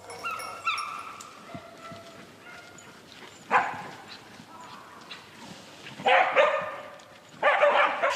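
Hunting dogs, including an English Springer Spaniel flushing dog and mixed breeds, bark, yip and whimper during a wild boar drive hunt, with several sharp bursts at intervals over a steady backdrop.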